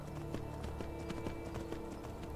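Horse hooves clip-clop in the video game Skyrim as the mount climbs a steep mountain slope, a quick, fairly even run of soft, distant-sounding hoof knocks.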